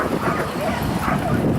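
At the Woods and Water Show's Ultimate Air Dog Show, a dog gives short yipping barks and whimpers amid a busy indoor crowd hum.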